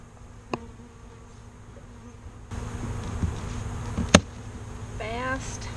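Steady buzzing of honey bees fills the background, with a few sharp clicks and knocks and a brief fluttering chirp near the end.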